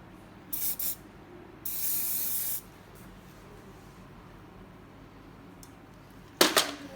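Hairspray sprayed onto a low hair bun, heard as three separate short hissing bursts from a close aerosol can, spaced apart with quiet in between.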